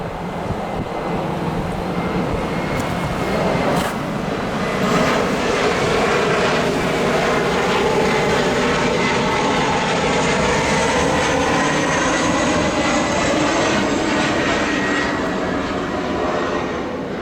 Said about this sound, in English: E175s often come through a few dB louder than other jets.